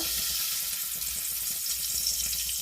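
Two bay leaves sizzle in hot white cooking oil in a pan at the start of a karai mutton preparation, a steady close frying hiss with faint crackles that runs the whole time, with no voices.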